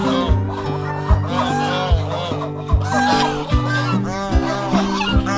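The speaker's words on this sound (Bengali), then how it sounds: "এখানে দেখুন রাজহাঁস" Domestic geese by a dam in Jamshedpur honk and call over and over, close and fairly loud, in a rhythmic chorus with low bursts between calls.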